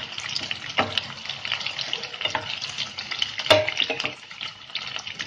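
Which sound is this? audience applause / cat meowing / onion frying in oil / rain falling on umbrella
onion frying in oil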